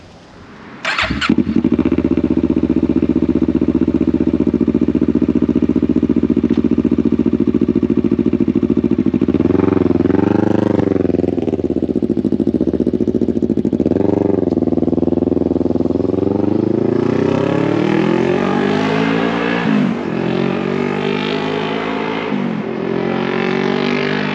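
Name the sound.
Kawasaki Z650 2017 motorcycle being ridden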